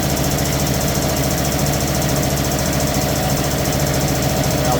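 A restored air compressor with a refurbished compressor head and electric motor runs steadily at close range, a loud, even mechanical chug with a constant pulsing rhythm and no breaks or voices.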